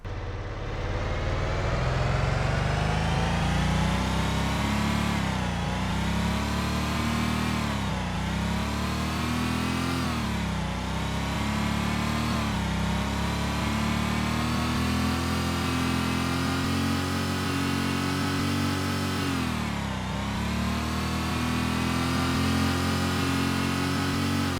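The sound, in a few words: isolated car engine sound in Void Racer video game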